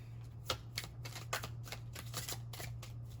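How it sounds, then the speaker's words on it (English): Cards being shuffled, a series of quick riffling bursts at an irregular rhythm, close by and fairly quiet, with a low hum underneath. "Let me shuffle the deck really quick."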